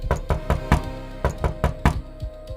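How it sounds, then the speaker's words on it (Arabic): Someone knocks on an old worm-eaten wooden door, a run of about a dozen hollow, fairly loud raps in uneven clusters, with no voices. "وبدا كيدق في باب الخشب اللي كان كياكلو السوس."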